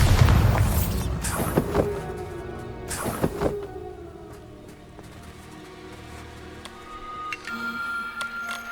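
Two sharp Bombarda spell blasts go off in the Hogwarts Legacy video game, the first near the start and a second around three seconds in, each leaving a ringing tail that settles into quiet clicks and ticks.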